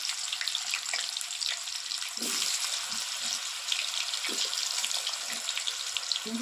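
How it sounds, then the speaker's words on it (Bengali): Pumpkin pieces for a vegetarian pumpkin chhokka frying in hot oil, a steady, fairly loud crackling sizzle with bursts of popping throughout, no voices. "তেলটা গরম হয়ে গেছে আমি কুমড়োগুলো দিয়ে দিই তেলে"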